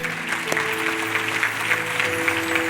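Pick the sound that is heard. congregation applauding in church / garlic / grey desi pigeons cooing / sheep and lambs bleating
congregation applauding in church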